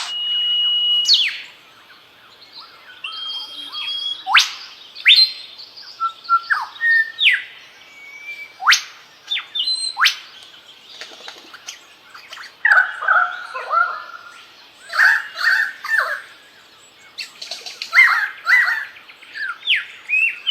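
A songbird mimics the calls of other bird species, stringing together varied chirps, whistles and squawks in bursts, clear and close against a quiet background.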